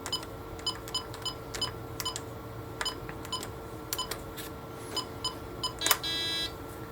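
Short electronic beeps from an alarm panel keypad sound one at a time in an irregular sequence as a code is entered, followed by a longer buzzing tone near the end, with a quiet hum underneath.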